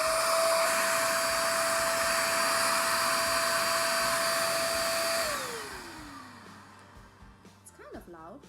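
A Dirt Devil Scorpion Plus hand vacuum runs with a steady, loud whine, then powers down with a falling pitch as its motor spins to a stop, leaving quiet rustling.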